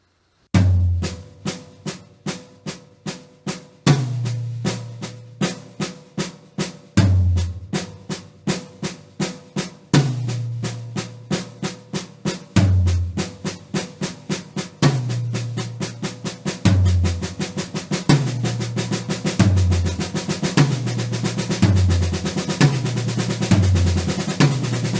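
A drum kit plays triple paradiddles with the first note of each pattern accented, the crisp hits sounding loud and close. Groups of even strokes repeat with a punchy accent on each downbeat, and the playing gets busier and denser toward the end.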